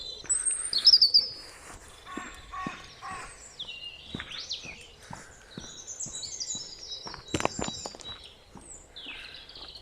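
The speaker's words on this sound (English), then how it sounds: "Birds twittering in the trees." Birds twitter and chirp in trees along a walking route in York, UK, with bright repeated calls scattered throughout and some short, sharp notes close by, with no talking.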